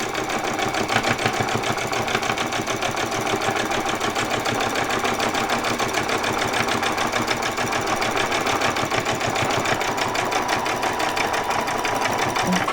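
Close up, a sewing machine hems fabric for Christmas pyjamas, its needle hammering in a fast, even mechanical rhythm that runs continuously and loudly, with no voices over it.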